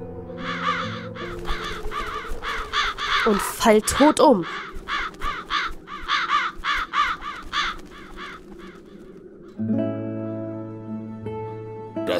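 Crows cawing in the point-and-click adventure game Satinav's Chains, a dense run of rapid harsh calls with a loud flurry midway, followed by a voice speaking over game music.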